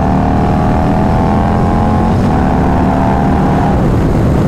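A Harley-Davidson Low Rider ST motorcycle fitted with a 475-lift cam runs in a loud, steady, close-up rumble, with its pitch dipping slightly partway through, heard alone without talk.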